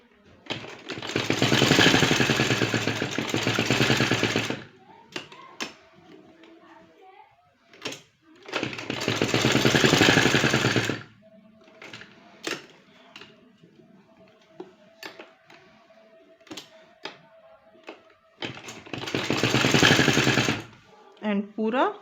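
A sewing machine runs in three loud bursts of a few seconds each, stitching the center seam of a trouser. Between the bursts come quieter clicks and handling noises, and a person talks.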